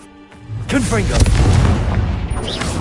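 A quiet lull gives way to a Confringo spell blast in Hogwarts Legacy, a loud booming impact with crackling debris, while a voice speaks over the start of the explosion.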